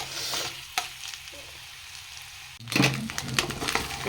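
Eggs frying in a pan at a village kitchen stove, a soft steady sizzle that bursts louder and crackles more busily partway through as they are stirred, with no talking.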